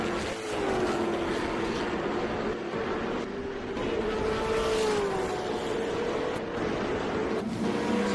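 TA2 race cars run at the Charlotte SpeedTour, with a continuous engine roar that rises and falls as cars pass, heard at a distance.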